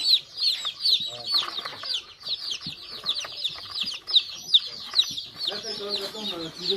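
Young chicks, some about a month old and others twelve to fourteen days old, cheep and peep in a busy, continuous chorus of shrill calls close by, with occasional rustling and wing flaps.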